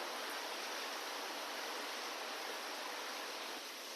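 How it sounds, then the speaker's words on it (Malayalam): Water poured over tamarind to soak it for a homemade Kerala-style rasam, a steady close-up rushing stream lasting the whole four seconds with no talking. "പുളി കുതിരാനായിട്ട് കുറച്ച് വെള്ളം ഒഴിച്ച് കൊടുക്കുക"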